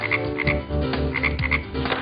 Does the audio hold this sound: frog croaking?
yes